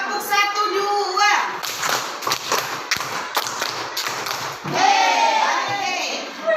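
A group of children clap out counted patterns in a classroom concentration game: quick clusters of crisp claps in the middle, framed by an adult's spoken instructions and children's voices.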